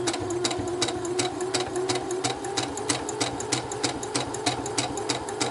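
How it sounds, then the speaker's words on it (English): A sewing machine runs steadily as it stitches fabric strips together for a quilt, its needle pattering in a fast, even rhythm up close over a low motor hum, with no talking. "So I'm going to finish sewing this strip together."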